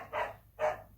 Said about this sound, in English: That's Lily barking like crazy outside the cave.